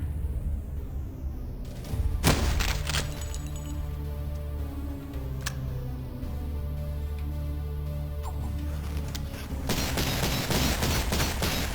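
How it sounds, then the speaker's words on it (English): Grenade launcher firing in the video game Cultic, a sharp blast near the two-second mark followed by rumbling, a few metallic clinks and another burst later, all over a steady low game drone with no talking. "Grenade launcher."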